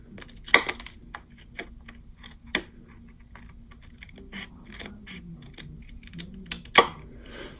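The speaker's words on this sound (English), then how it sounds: "So I am just going to cut that tab off." Scissors cut a tab off a paper page in a social media planner: a few sharp, close snips and clicks, spaced apart over a quiet background, with no talking.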